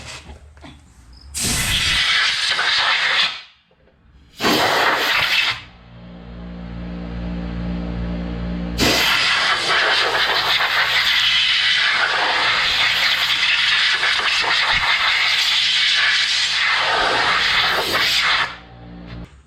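Compressed air blasts steadily onto the brake parts of a 2006 Nissan Altima, loud and close. Two short bursts are followed by a long continuous hiss lasting about ten seconds.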